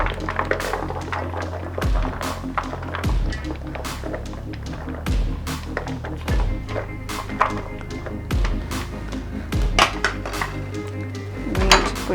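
Clattering pan and utensil sounds as carrots go into a cooking pan for a vegetable dish, repeated sharp metallic clinks and thunks at an irregular rhythm, close and fairly loud.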